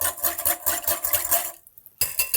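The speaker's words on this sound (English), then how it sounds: "Give these a little whisk together" Rapid metallic clinking of a whisk mixing rice vinegar and sesame oil in a bowl, brisk and close, pausing briefly before starting up again.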